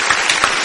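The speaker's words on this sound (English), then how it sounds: "Give him a round of applause." Applause from a studio audience on a hip hop radio show, a short burst of dense clapping that is loud and close.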